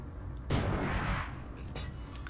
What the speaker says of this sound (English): You can shoot missiles